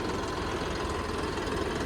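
A Swaraj 855 tractor engine runs at a steady idle, a loud, close, throbbing low rumble with a continuous chugging texture and no talk.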